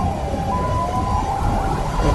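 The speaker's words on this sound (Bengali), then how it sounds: "পুলিশের গাড়ি দেখানো হচ্ছে" A police car siren in a Free Fire 3D animation: a continuous wailing tone rising and falling over a dense background rumble, moderately loud and without voices.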